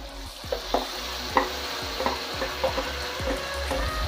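A ginger, onion, garlic and green chilli paste fries in a pan as a spatula stirs it in a regular rhythm, each scrape cutting through a constant close sizzle, with no speech.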